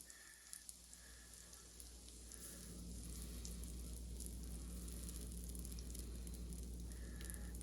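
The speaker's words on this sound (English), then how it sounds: "You can hear it sizzling." Sourdough discard pizza batter sizzles in a hot pan, a quiet, steady crackling hiss that grows fuller after a few seconds and continues evenly, with a faint intermittent tone in the background and no speech.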